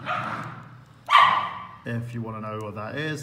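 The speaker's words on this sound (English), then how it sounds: "that's my dog and cat messing around." A pet dog barks and yelps while romping with a cat indoors, with sharp loud barks, a pause, then a stretch of whining, yipping vocalizing, all under a man's speech.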